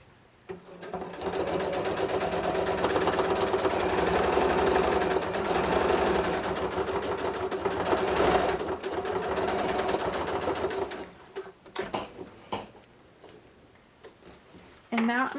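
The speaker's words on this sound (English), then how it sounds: "I'm just going to sew it with like a 1/4 inch seam allowance, just top to bottom." A sewing machine runs a long, steady burst stitching a quarter-inch seam on a quilted vest, its fast motor whir and needle ticking holding for about ten seconds before stopping, followed by scattered handling clicks and rustles.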